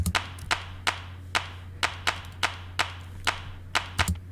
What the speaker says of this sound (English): I'm using these claps which just come whenever this track is getting filtered.